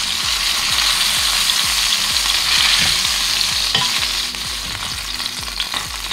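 Steady loud sizzling of pork liver frying in a hot pan, with occasional scraping and clicking as it is stirred; no voices.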